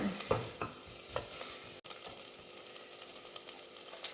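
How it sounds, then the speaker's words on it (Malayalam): Tender jackfruit masala sautés in a pan, with a soft steady sizzle and a few spoon scrapes and knocks against the pan. It sounds close, with no talk. "ഇതെല്ലാം നന്നായിട്ട് വഴന്ന് വന്നിട്ടുണ്ട്"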